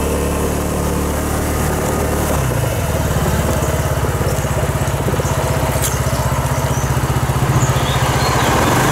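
A Sym Symply 2 (Orbit) scooter being ridden, its small engine giving a steady, close, droning buzz with a rapid pulsing beat that firms up after the first few seconds, heard alone without talk.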